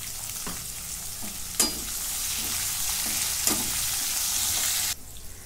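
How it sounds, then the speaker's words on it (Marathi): Green chili sizzles steadily in a pan over low heat with dal and garlic that are already roasted golden, a continuous close frying hiss with a few sharper crackles. "आता याच्यात मिरची टाकून घेते।"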